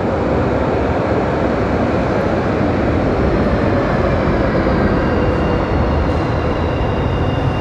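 A loud, steady rumble of a blue tram rolling in close by in Rostock, a continuous roar of wheels on rails with a faint high squeal above it.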